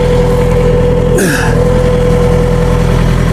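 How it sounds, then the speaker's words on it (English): A truck's refrigeration unit engine gives a steady, loud drone with a constant low hum throughout, and a brief rustling burst interrupts it partway through. "Apologize for the noise. It's a reefer running."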